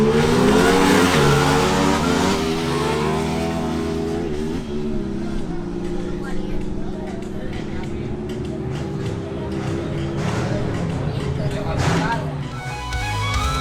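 Two Aprilia RS 660 motorcycles accelerate hard in a drag race, their engine notes climbing through the gears as a loud, sustained roar, with a voice talking over it.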